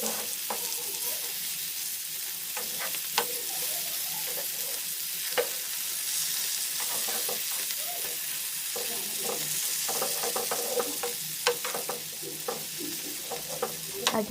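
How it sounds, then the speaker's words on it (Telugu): Pieces of salmon fish fry in a pan with a steady, close sizzle, punctuated by short clicks and scrapes as the pieces are turned, continuing alone without speech throughout. "అటువైపు కూడా బాగా ఫ్రై అయ్యే వరకు వెయిట్ చేయాలి"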